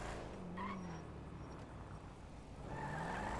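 Bravado Buffalo STX muscle car engine in GTA 5, a steady rumbling drone with a rising rev tone near the start and again toward the end, moderately loud and alone.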